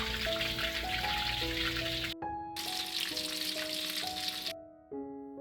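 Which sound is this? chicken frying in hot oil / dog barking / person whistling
chicken frying in hot oil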